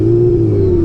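A first-generation Yamaha R6 600cc sport motorcycle engine holds a loud, steady high-rev drone up close, one continuous tone with no talk.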